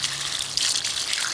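Water sprays from a garden hose in a brief, bright hiss with splashy spatter, close by, with no talking.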